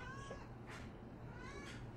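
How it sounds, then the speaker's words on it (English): A house cat meows a few times indoors, brief moderate calls rising over a steady low household hum. "I am also playing with a Casey cat because she is needy"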